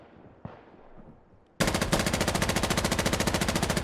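Long, steady automatic gunfire bursts in a competitive first-person shooter match as players warm up, loud and continuous after a quieter opening with a single faint shot.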